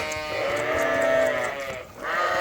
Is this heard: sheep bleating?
yes